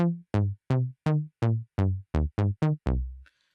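A Moog Minitaur analog synthesizer plays alone: ten bright, plucky bass notes in a quick bouncing rhythm, each decaying fast, the last one held a little longer before fading.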